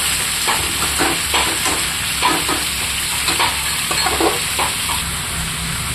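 Bottle gourd and shrimp sizzle steadily in a hot pan while a utensil scrapes and stirs in irregular strokes, close up and with no talking.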